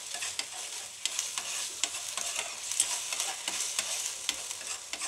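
Garlic and ginger stir-fried in a pan for stuffed brinjal, with a steady sizzle broken by repeated spatula scrapes and taps, close and moderately loud, no voices.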